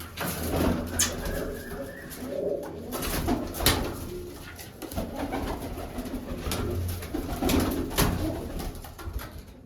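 Several pigeons in a coop coo continuously, overlapping low throaty calls close to the microphone, with occasional sharp clicks and shuffling among them.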